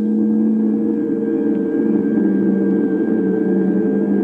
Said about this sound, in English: If you could hear the light from this flashlight,